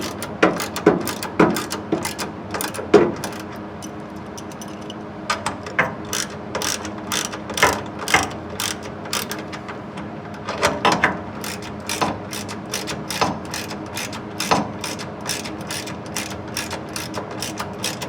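A ratchet clicks in repeated quick bursts while tightening header bolts on an engine, close and crisp with brief pauses between strokes and no talking.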